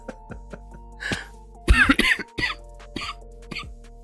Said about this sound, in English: Scared me into coughing.